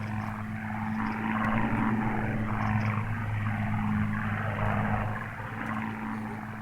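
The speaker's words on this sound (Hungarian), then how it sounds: "Repülő." A propeller airplane drones overhead in the game Martha is Dead, a steady low engine hum holding for several seconds with a slight swell in the middle, heard alone.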